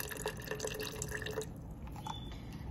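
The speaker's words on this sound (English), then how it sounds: "I'm going to now fill it with water to the water fill line." Water runs faintly from a tap into a salad dressing bottle, a soft trickling stream that stops partway, followed by a few quiet drips and small clinks.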